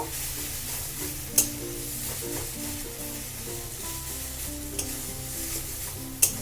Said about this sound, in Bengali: দিয়ে এটাকে ভালো করে মিশিয়ে নেব।